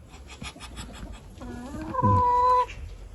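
A chicken clucks and squawks up close, rising into a loud, sustained drawn-out call, with softer clucking beforehand.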